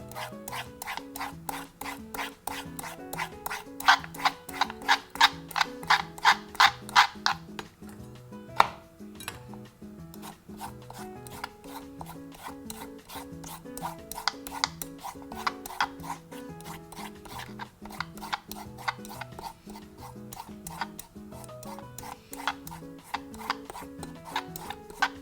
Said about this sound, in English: peel the carrot, then use a peeler to shape it into thin ribbons